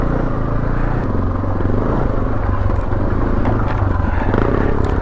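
A Beta Alp 4.0 dual-sport motorcycle on a ride gives off a steady, loud engine rumble mixed with wind noise, holding an even level from start to end with no talking.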